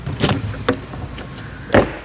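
Slam latch on the baggage door of a 2027 inTech Sol Dusk travel trailer: several sharp knocks and thuds, the last the loudest, close by.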